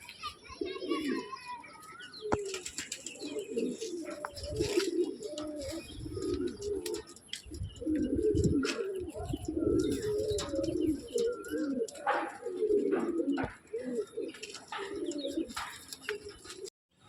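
Madras pigeons coo steadily in a loft, their low, throaty calls repeating close by, with occasional chirps and a voice speaking over them.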